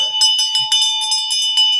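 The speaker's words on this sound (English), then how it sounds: "We got a bell, folks." A bright metallic bell rung repeatedly in quick, uneven strikes to open a political debate show, loud and ringing with sustained tones between hits, and no voices over it.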